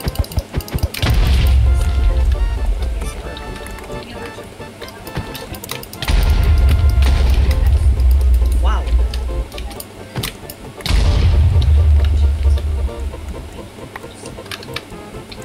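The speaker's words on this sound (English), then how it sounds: "I hear a lot of explosions." Three heavy, booming Minecraft creeper explosions go off a few seconds apart, each a loud rumbling blast that fades slowly; someone briefly exclaims.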